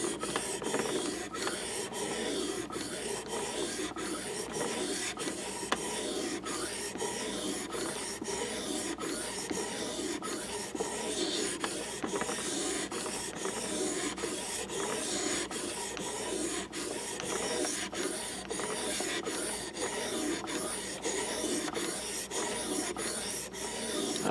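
A Mora knife is being sharpened and re-beveled, its blade rasping steadily in repeated close strokes against a sharpening surface, a continuous gritty rubbing with no talk.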